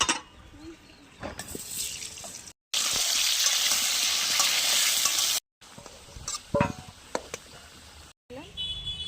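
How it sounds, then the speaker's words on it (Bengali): Potatoes coated in salt and turmeric frying in oil in a kadai while chicken curry is being prepared; a broad steady sizzle fills one stretch, broken by cuts, with clattering stirring around it. "এবার আলুগুলো লবণ হলুদ মাখানো আছে, ভেজে নেবো।"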